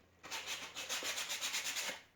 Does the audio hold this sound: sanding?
yes